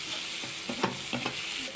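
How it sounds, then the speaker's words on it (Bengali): Garlic paste frying in a pan for a fish curry, a steady close sizzle with a few soft scraping stirs and no voices. "রসুন বাটার কাঁচা গন্ধ যাওয়া পর্যন্ত আমি আরও 2 মিনিট ভেজে নেব"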